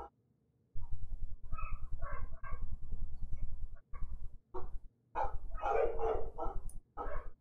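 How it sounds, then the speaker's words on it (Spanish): A neighbour's dog barks outside, coming in through an open window. Short, loud barks repeat in quick bursts across the whole stretch, with brief pauses between volleys. "El perro del lado empieza a ladrar y tengo la ventana abierta."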